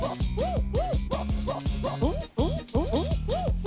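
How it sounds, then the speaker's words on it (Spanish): Dog barking in a modded video game: a quick run of repeated, evenly spaced yelps with a tonal, synthetic edge, loud and steady over a continuous game soundtrack, with one brief dip in the middle. "Parece un perro ladrando o algo así."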